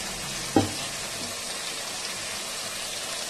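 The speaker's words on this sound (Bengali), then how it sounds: "এবার মশলাটা কষানো হয়ে যাবে ভালোভাবে, তেল ছেড়ে আসা অবধি মশলাটা কষানো হবে।" Spice paste fries in hot oil for a Bengali fish curry, a steady broadband sizzle throughout with one brief louder clack of stirring near the start, close and without any talk.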